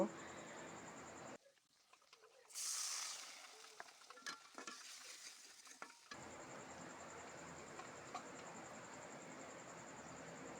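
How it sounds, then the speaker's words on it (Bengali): Chopped onion and green chili frying in oil in a pan, a steady sizzle that drops away briefly while utensils clink and stir, then returns at full strength. "পেঁয়াজ কুচি আর কাঁচামরিচ কুচি দিয়েও পেঁয়াজটাকে কিছুক্ষণ ভেজে নেব"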